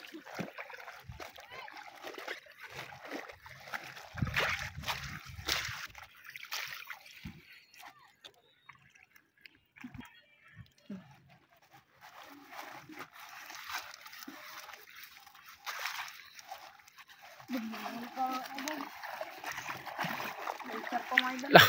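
Water splashes and sloshes in uneven bursts, fairly faint, with quieter stretches between them and voices talking at times.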